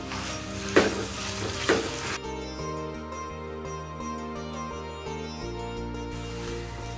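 Wood apple pickle sizzles in a pan while it is stirred, a dense frying hiss with a couple of scraping knocks early on. A steady tonal background sound runs underneath most of the stretch.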